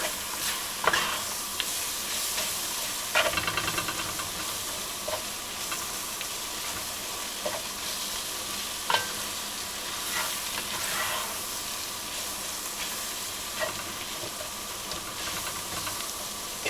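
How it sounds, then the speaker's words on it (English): Flour cooks into beef and onions in a frying pan with a constant close sizzle and hiss, broken by occasional scraping stirs of a utensil against the pan, with no speech. "we just got to cook the flour through, and that'll absorb any other remaining liquid in the pan"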